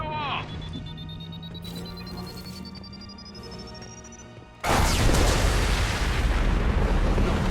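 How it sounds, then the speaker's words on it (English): A huge video-game explosion in Mass Effect 2 erupts suddenly after a rising electronic whine and quieter rumbling, then sustains as a loud, broad roaring blast for several seconds. "Oh wow, that was a huge explosion."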